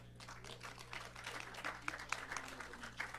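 Audience applause at a North Las Vegas city council meeting, a soft, scattered patter of hands with a few sharper individual claps standing out, heard at a distance over a steady low room hum.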